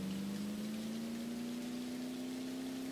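Steady rain falling in the Dinkum video game, a continuous even hiss of downpour with a low droning tone running underneath, no talking.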